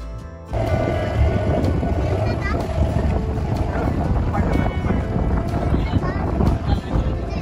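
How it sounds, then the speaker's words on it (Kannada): A boat speeding over the water toward an island near Kodi Beach, Kundapur, with a loud, steady engine roar and rushing wind buffeting the microphone from start to finish. "ಬೋಟ್ ಸ್ಪೀಡ್ ಕೂಡ ಜಾಸ್ತಿ ಆಯ್ತು ಈಗ."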